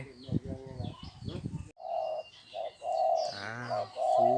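Red-whiskered bulbul calls with a person speaking first, then repeated clear, tonal calls in short phrases, near and fairly loud.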